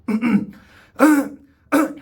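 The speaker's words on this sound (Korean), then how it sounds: "이것도 우리가 기침이라고 하지만 이거는 진짜 기침은 아니고 본인이 그냥 일부러 하는 목을 간질 해소하는 그런 거다" A person deliberately clears their throat to ease an itch, giving three short, close, rough rasps separated by brief pauses, with no other sound.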